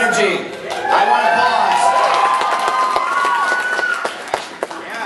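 Audience applause and cheering at an anime convention cast panel, a steady crowd roar with scattered claps and whoops that swells early, then thins toward the end while voices talk over it.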